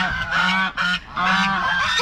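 An aggressive goose at a cafe lets out loud, close, repeated honks in quick back-to-back bursts, each call harsh and nasal, with brief gaps between them.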